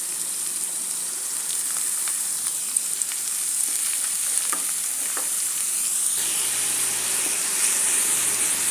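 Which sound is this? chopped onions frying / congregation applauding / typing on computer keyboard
chopped onions frying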